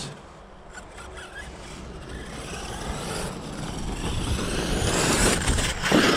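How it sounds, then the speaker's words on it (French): A rising, droning motorcycle engine noise builds gradually as if approaching from afar, with wind rumble and rustling close by. "on entend les gens qui s'amusent avec leur moto"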